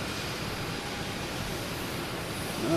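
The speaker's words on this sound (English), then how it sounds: "We had a JetBlue coming in from Albany, I believe." A JetBlue jet airliner arriving at Boston Logan from Albany roars as a steady broadband engine rumble, fairly loud and continuous, swelling slightly at the end.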